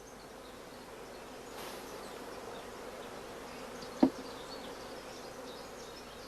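Honey bees buzz around an opened hive during queen rearing, the super and upper brood chamber lifted off; a steady, soft insect drone fills the clip with one sharp knock near the end.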